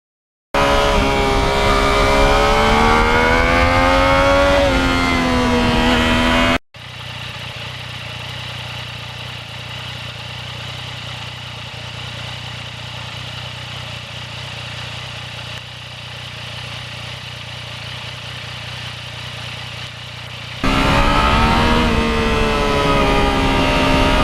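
A 2020 Yamaha MT-09 three-cylinder motorcycle being ridden, its engine note climbing and falling in loud revs at the start and end, with a long stretch of steady, muffled engine and wind rumble between.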